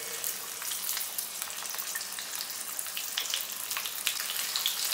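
Cumin seeds crackle and splutter in hot oil in a kadhai, a dense continuous sizzle with scattered sharp pops, steady and fairly close, no voices.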